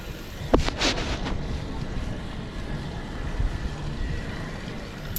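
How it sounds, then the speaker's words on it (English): Water in a street fountain splashes continuously with a broad, hissing wash, and gusts of wind buffet the microphone. "Look at this beautiful fountain."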